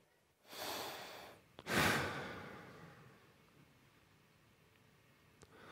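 A man imitates the sound of breathing, giving two loud breathy exhalations near the start, the second strongest, then a fading airy trail with faint background hiss.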